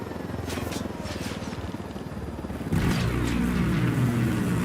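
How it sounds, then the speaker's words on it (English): Helicopter rotor and engine drone in Ghost Recon Wildlands, a steady rumbling whir that swells louder and fuller partway through as the aircraft powers up. "I'm stealing the helicopter."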